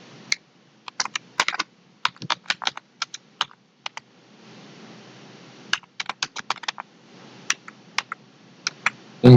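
Someone types Python code on a computer keyboard in bursts of quick, crisp key clicks separated by short pauses. The keyboard is close and heard alone.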